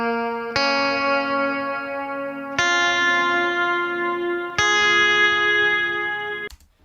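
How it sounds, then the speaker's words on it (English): Guitar played through a reverb pedal set to a long decay, three strummed chords each washing into a sustained, shimmering tail before the sound cuts off abruptly. "the same thing with like a long haul reverb"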